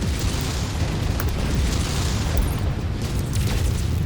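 Mech ammunition cooking off in MechWarrior 5: Mercenaries, a dense, sustained rumbling roar of explosion that fills the whole stretch with heavy low booms and crackle.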